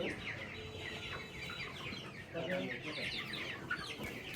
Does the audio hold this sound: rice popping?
no